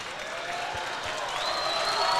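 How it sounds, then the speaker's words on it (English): A basketball crowd in a gym cheers and applauds in a steady, building roar, heard at a distance under a faint background voice. "As the crowd is getting into it"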